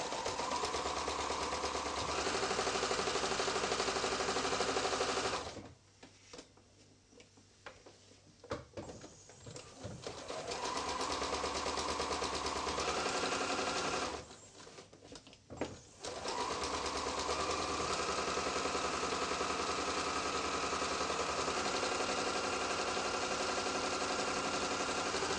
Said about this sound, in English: you can see how easy it is to sew the oilcloth on your machine